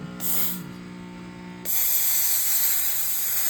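A bed bug steam treatment lets out a loud, close hiss of spraying steam. A short burst with a tonal hum comes first, then a strong continuous jet.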